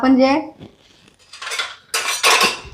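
Metal ladle clanking against a cooking pan as oil goes in for a Khandeshi dubuk vada curry. A voice speaks briefly at the start, then sharp, close metallic clatters follow.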